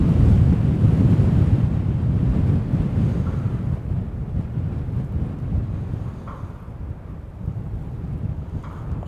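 Strong wind outside Liverpool's Anfield stadium buffets the microphone in a steady, heavy roar that stays loud throughout, with no voices.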